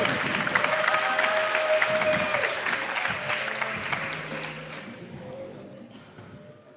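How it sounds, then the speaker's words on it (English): Applause and some cheering from a conference audience greet a startup pitch team, loud at first and then tapering off toward the end. "So you must be cheering twice as loud for the next team"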